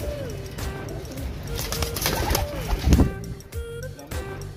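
Pigeons coo repeatedly in a loft of prized Indian pigeons, soft rolling calls overlapping close by, with some background rustle and chirps between them.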